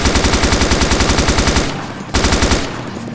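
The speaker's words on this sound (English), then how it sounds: "Aim down the sights, open fire on the targets." Rapid automatic rifle fire at a shooting range in the video game Arma 2: Operation Arrowhead, loud close bursts of evenly spaced shots, a brief pause, then another burst trailing into echo.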